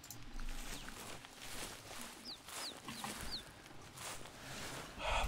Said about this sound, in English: So I do think the chirping that I've been hearing is from the ptarmigans in the area.